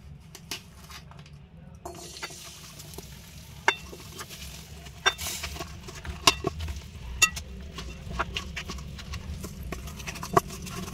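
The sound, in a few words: jaggery melting with ghee in a hot kadhai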